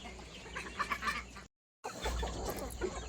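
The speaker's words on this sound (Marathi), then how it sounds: "प्युअर देशी कोंबड्या एकदम फ्री रेंजमध्ये" Free-range desi chickens cluck and chatter close by in an open farm yard, several birds at once, with a brief silent gap partway through.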